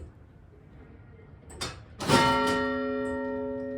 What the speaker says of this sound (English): just in time to hear and see the bells chime at the top of the hour.